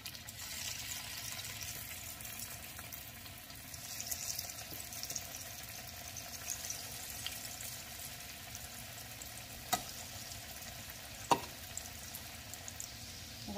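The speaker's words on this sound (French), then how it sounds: "Donc là il ne reste plus qu'à faire frire nos nuggets." Cheese-stuffed chicken nuggets deep-frying in hot oil in a pan, a steady low sizzle and crackle running throughout with a couple of brief sharper pops.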